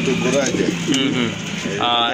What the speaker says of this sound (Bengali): খুবই চমৎকার এক জোড়া মুন্ডিয়ান কবুতর